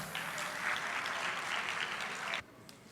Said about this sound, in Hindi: जोरदार तालियां बजा के